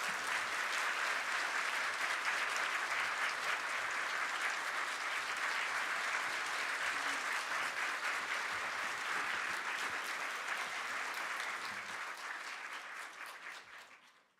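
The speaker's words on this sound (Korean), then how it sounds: "교인들에게 박수 받으니까 쑥스럽네요" A church congregation at a Korean church's Sunday service claps for its senior pastor's final sermon, dense sustained applause from a full room that fades out near the end, with no talk.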